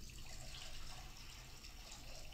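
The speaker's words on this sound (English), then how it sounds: "taking water and pouring it into a basin" Water is poured into a basin, a soft, continuous splashing trickle that stays faint and even, with no voices.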